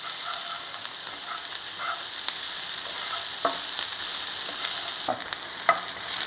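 Onion fries in a pan with a steady, close hiss and sizzle for stuffed brinjal, broken by occasional clicks of a stirring spoon.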